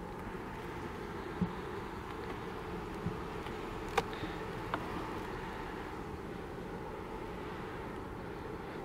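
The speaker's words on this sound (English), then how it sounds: "So these are just extra bees" Honey bees buzzing around frames of comb and brood in a beehive, a faint, even hum held throughout with a few small taps and clicks.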